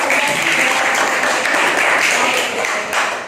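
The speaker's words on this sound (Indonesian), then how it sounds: "Tepuk tangan dong buat" A classroom audience at a teacher performance assessment session claps loudly and close, a dense, steady burst of applause that eases slightly near the end.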